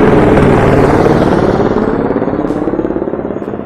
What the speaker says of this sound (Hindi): ये वाला जो आप हेलीकॉप्टर देख रहे हैं ये आ रहा बालटाल से